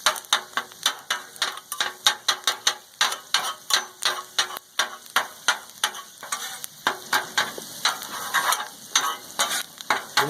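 Egg fried rice cooks on a Blackstone griddle as a quick, irregular run of sharp scraping and tapping clicks from the spatula, with a soft sizzle beneath and no talking.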